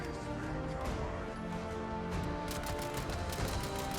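Rapid bursts of gunfire from Scorched enemies in Fallout 76, loud dense rattling volleys filling the whole stretch with no talk over them.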